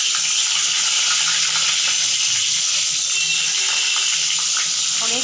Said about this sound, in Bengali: এবারে বেগুনটা একটু দিয়ে দিই তেলে